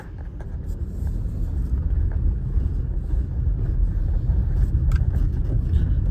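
Car driven around a test course during undercarriage noise diagnosis, a loud steady low rumble of engine and road noise with wind buffeting and faint rattles, close to the microphone.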